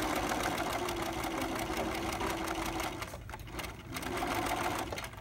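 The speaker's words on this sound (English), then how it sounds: "Stitch and then sew back to the end and pick up your presser foot, pull it out" Sewing machine running steadily while stitching the crotch seam of a pair of pants, a continuous close whirring hum that dips briefly near the end before resuming, with no talk over it.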